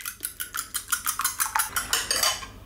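Eggs are beaten for an omelette in a bowl, a fork or whisk clinking against it in a quick, even rhythm of about a dozen strokes, close and clear with no talking.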